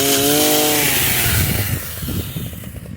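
A PROYAMA 42.7cc petrol multi-tool pole saw roars loud and close while cutting a tree branch, its two-stroke engine whining at high revs before bogging down into a rougher, choppier rasp as the chain bites into the wood.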